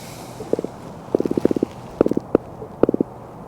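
A small drum fish pulled from the water croaks in quick clusters of low, rapid knocking pulses, four or five bursts close to the microphone with no talking.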